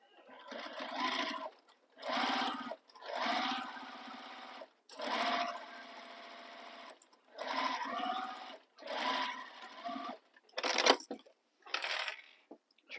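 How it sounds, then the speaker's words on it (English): A sewing machine stitches a seam on a crossbody bag in a series of short bursts, each a few seconds of rapid close mechanical whirring separated by brief pauses. "we're going to sew this with the seam allowance given in the pattern"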